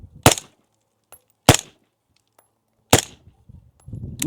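Three sharp gunshots fired at close range on a range, spaced over a few seconds, each a crisp loud crack with a brief tail, plus a faint click between the first two.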